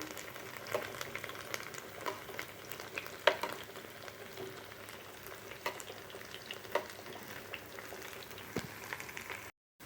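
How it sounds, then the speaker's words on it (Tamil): Bitter gourd pieces crackle and sizzle in hot oil over a medium flame, a continuous near bubbling fry dotted with small pops and faint stirring, with no one speaking. "கொஞ்சம் மீடியம் ஃப்ளேம்லேயே வச்சு இதை நல்லா ஃப்ரை பண்ணணும்"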